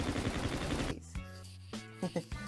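Rapid gunfire in a zombie video game rattles densely for about a second, then breaks into a few separate shots with short gaps between them, moderately loud.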